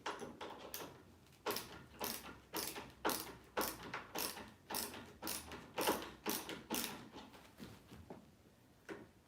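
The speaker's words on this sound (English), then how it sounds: "I gotta screw this one in tight." A part is screwed in tight by hand, heard as a quiet, regular series of ratcheting clicks repeating about every half second. Nobody talks.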